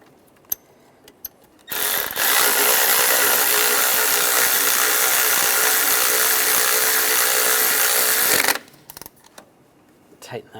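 A ratchet wrench tightening the intake bracket bolt on a 1996-2002 Toyota 4Runner during an intake gasket replacement, a close, loud, steady run of rapid clicking lasting several seconds, with brief handling noises before and after.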